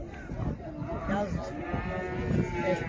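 Cattle lowing at a crowded livestock market for sheep, goats and cattle, with a long drawn-out moo close by over busy crowd noise and voices.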